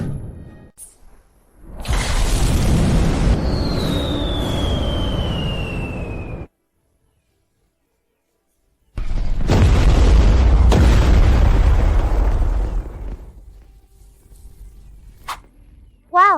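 Red fireworks burst in two long roaring, crackling blasts with a whistling whoosh, separated by a moment of silence, followed by smaller pops.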